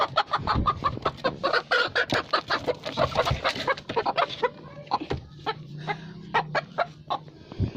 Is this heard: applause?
no